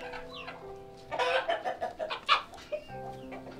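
Chickens on a poultry farm cluck and call in a close, irregular burst of several overlapping clucks, fairly faint against a quiet background.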